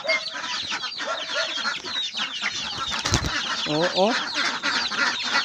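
Black Australorp and native chickens cluck and chatter continuously in a busy flock, with a rooster-like call near the end and a brief human exclamation over the birds.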